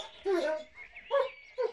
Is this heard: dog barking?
yes